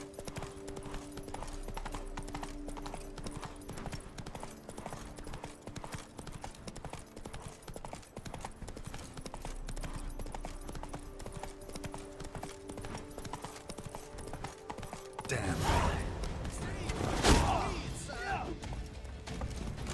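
Horse hooves clip-clopping in the video game The Witcher 3: Wild Hunt, a steady rapid patter of footfalls under game music, then a louder burst of impacts and movement near the end.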